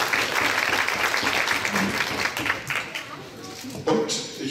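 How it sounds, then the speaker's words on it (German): An audience at a Sri Lankan cultural evening in Leverkusen gives a sustained round of applause, dense clapping holding steady for several seconds before thinning out, with some voices mixed in. "Ja, da darf man gerne klatschen."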